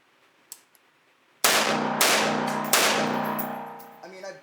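Three loud, sharp shotgun blasts go off in quick succession during home defense carbine-style training, each followed by a ringing decay, with a few faint clicks before the first shot and brief handling noise after the last.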